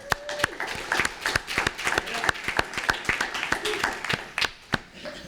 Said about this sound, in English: So a round of applause for them and their team.